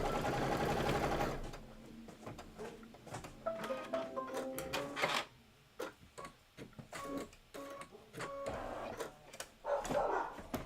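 A sewing machine runs a quarter-inch seam through blue floral quilting fabric in a Kimberbell sew-along project, whirring in short bursts and stops, with light clicks and handling noise between runs.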